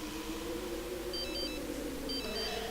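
A telephone rings in a video game, two short electronic trill bursts sounding over steady background music.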